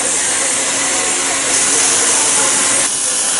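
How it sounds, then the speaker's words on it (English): Gas metal arc welding at a welding competition, tacking up a part and running a bead: a loud, close, continuous crackling hiss that holds steady throughout, no voices. "Right now he's tacking up his part and he's running a bead."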